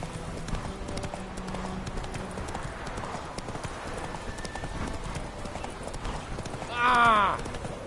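Roach the horse galloping in The Witcher 3 on PS4, rapid rhythmic hoofbeats throughout, ending with a loud neigh near the close, with a voice talking over parts of it.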